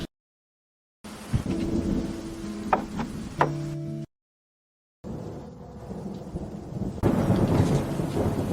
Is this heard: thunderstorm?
yes